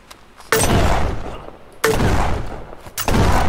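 Shotgun blasts in the browser shooter venge.io: three loud, heavy shots spaced about a second apart, each with a booming tail, alone without talk.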